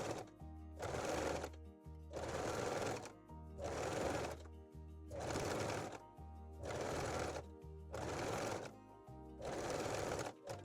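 A sewing machine runs zigzag stitching along bra elastic in six steady whirring bursts separated by short pauses, close and fairly quiet, with no talking.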